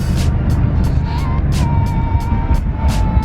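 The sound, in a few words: Mercedes AMG car accelerating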